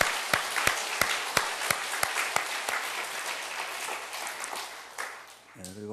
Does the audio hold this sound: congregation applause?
yes